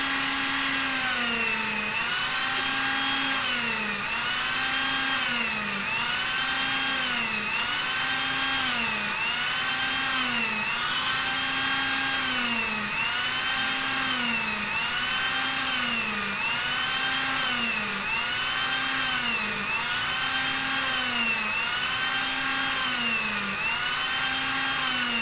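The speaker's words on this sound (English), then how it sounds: "And then using our Dremel, put our rivets on the intersections." A Dremel rotary tool works on Iron Man Mark IV armor, a steady loud high-speed whine with rhythmic pitch dips repeating about every two seconds, running continuously with no talk.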